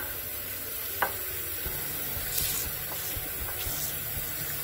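Water runs and splashes steadily over soapy horse-grooming equipment during rinsing, a continuous close hiss with a few small clatters and knocks.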